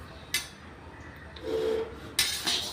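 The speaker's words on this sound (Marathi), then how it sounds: "आता उडदाची डाळ ते छानपैकी भाजून घेते." Urad dal dry-roasting in a pan over a low gas flame for chakli bhajani, with sparse metallic scrapes and clinks of stirring, a couple of sharper knocks against the pan, and quiet background otherwise.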